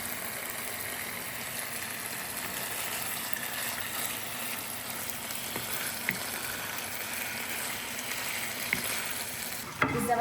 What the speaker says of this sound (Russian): Теперь аккуратно перемешиваю.